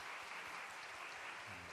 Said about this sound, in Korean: 수고해 주신 지사님께 좀 박수로 격려하실까요?